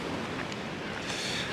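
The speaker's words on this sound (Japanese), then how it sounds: "めちゃくちゃ風が強いです" Strong wind on a Croatian beach buffets the microphone, producing a faint, steady roar with rough gusty texture and possible surf underneath.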